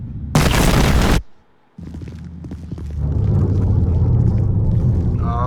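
A loud explosion from a thrown grenade, a sharp broadband blast lasting about a second, then a brief hush before a heavy rumbling roar continues to the end.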